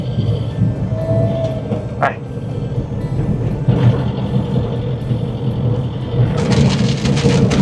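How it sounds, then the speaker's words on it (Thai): Steady rain pours outdoors in rural Thailand as a dense, even hiss that fills the whole stretch. A brief sharp crack is heard partway through, and the rain thickens toward the end. "ตอนนี้ฝนตกแล้วครับ"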